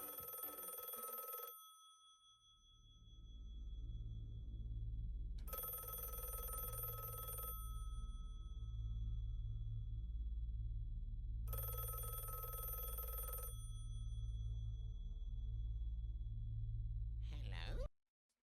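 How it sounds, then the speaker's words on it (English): A telephone bell rings in three long bursts with pauses between them, set in the surreal puppet show Don't Hug Me I'm Scared, over a steady low background hum. "everyone gets all serious when the phone's calling"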